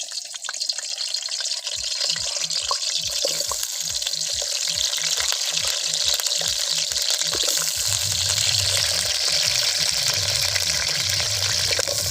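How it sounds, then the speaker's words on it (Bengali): Potatoes fry in oil in a hot wok at a riverside picnic, a loud continuous sizzle with a run of rhythmic stirring knocks and scrapes partway through. "কড়াইটা গরম হয়ে গেছে এবার আমি তেল দিয়ে আলুটা ভেজে নেবো"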